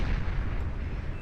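Missiles fire in a Beyond All Reason 4v4 deathmatch battle, a dense, rumbling barrage of overlapping low booms that stays loud and continuous throughout.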